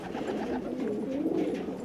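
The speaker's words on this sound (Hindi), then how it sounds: "ये बहुत खूबसूरत कबूतर है नायाब।" A handsome young fancy pigeon coos softly and continuously, close by, a low burbling call rolling through the short stretch with no voices over it.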